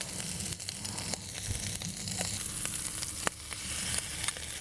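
A beef and cauliflower stir fry sizzles hard in the pan as oyster sauce goes in, a continuous bright hiss with scattered clicks and scrapes of stirring.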